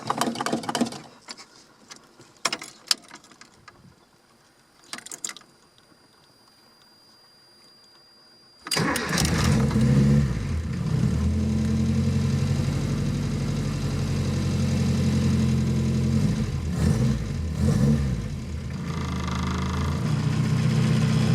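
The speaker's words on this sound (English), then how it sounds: "Now all you need to do is start your car up." A 1978 Toyota KE30 with a 4K engine cranks and catches, then settles into a steady, rough, close idle that continues to the end, after some quiet clicks and handling noise.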